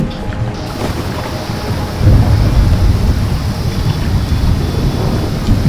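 Heavy rain with rolling thunder as an audio drama effect in a flood horror story, a loud, continuous roar with deep rumbling that swells after a couple of seconds.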